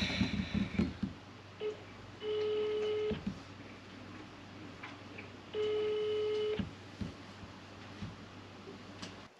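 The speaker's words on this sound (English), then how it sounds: "And it's still ringing. Has not yet been answered." A telephone ringing unanswered, two steady electronic rings several seconds apart, fairly quiet, with faint handling clicks and room noise in a workshop between them.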